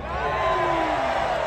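A concert crowd at a live show on a tour in Monterrey, Mexico, roaring with whoops and cheers; a dense, sustained wash of distant voices.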